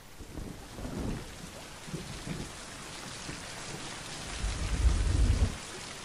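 Rain and thunder in the video game Mind Path to Thalamus, a steady hiss of rainfall with low rolling rumbles building to a heavier thunder roll near the end, with no one speaking.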